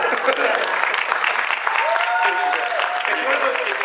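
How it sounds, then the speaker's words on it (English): Audience applause fills an event room during an Imagineers' panel on the Haunted Mansion at a Walt Disney event, a dense steady wash of clapping that holds at an even level throughout, with faint voices mixed underneath. "If that was not a prompt for applause, I don't know what is"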